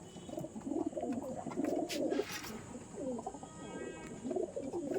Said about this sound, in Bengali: এই যে এগুলো সব আমার মাদি পায়রা।